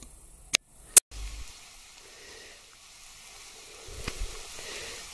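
Faint steady sizzle of zucchini frying in a pan, with a couple of sharp clicks at the start and a soft clatter near the end.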